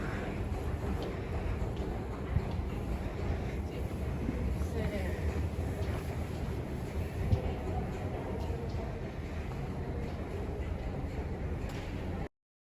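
New York City subway train rumbling steadily at low volume, a continuous rail drone with faint clanks and scattered background chatter.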